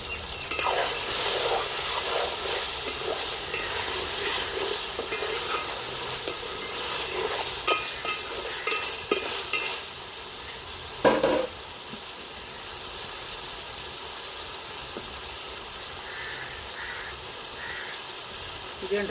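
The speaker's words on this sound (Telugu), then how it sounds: "ములక్కాయ ముక్కలు వేస్తున్నారండి" Drumstick pieces frying with mutton in a pan, a continuous loud sizzle and hiss with scraping stirs throughout, a sharper clatter near the middle, then steadier bubbling frying.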